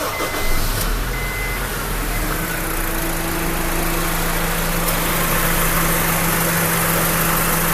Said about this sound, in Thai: เดี๋ยวผมจะลองสตาร์ทเครื่องให้ฟัง สักนิด นึงนะ